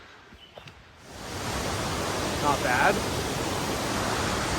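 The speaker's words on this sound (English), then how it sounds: "There's a little bit of a waterfall. We got a waterfall back there." A waterfall beside a mountain hiking trail rises to a broad, constant rushing hiss after a quiet opening, with a brief spoken remark near the start and some faint movement sounds.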